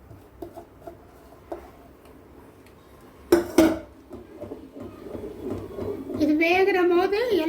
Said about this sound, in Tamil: அது வரையும் நம்ம அடி பிடிக்காமல் இருக்க கிண்டிக்கிட்டே தான் இருக்கணும்